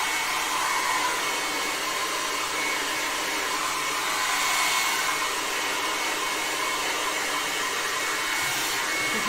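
Hair dryer blowing continuously to dry a paint wash on a model railway layout, a loud, steady close-up whir lasting the whole stretch with no voices.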